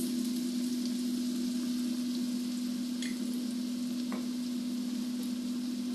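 Broccoli stir-frying in oyster sauce in a hot pan, a continuous even sizzle with a steady hum underneath and a couple of faint scraping knocks, no voices.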